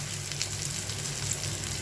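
An egg sizzles steadily in a hot frying pan, with a dense, even crackle of oil throughout and no voices.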